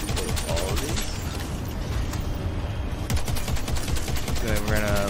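Continuous rapid automatic gunfire in the video game Crackdown 3, a loud dense stream of shots with brief pauses, a voice talking over it.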